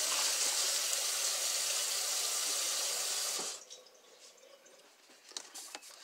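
Cold water runs steadily from a kitchen tap for several seconds in a loud, hissing stream, then cuts off, leaving faint drips and small clatters in the sink.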